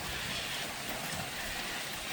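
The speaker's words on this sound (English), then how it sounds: "here comes the rain as predicted." Rain beginning to fall outdoors in the countryside of Central West New South Wales, a steady, even hiss of drops on surfaces, moderately loud and continuous with no other sounds standing out.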